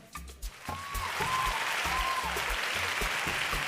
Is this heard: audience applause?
yes